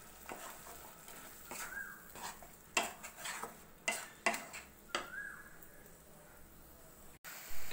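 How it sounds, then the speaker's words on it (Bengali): Ground spices with salt and a little sugar being fried for masoor dal tadka, a low sizzle broken by repeated scraping strokes and utensil knocks against the pan, close and fairly quiet, no speech. "আমি মশলাগুলো দিয়ে দিয়েছি, এখন এগুলি একসাথে খুব ভালোভাবে কষিয়ে নিতে হবে।"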